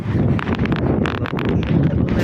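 Wind buffets the microphone in steady gusty rumbles outdoors near young turkeys, with faint rustling and scattered thumps mixed in.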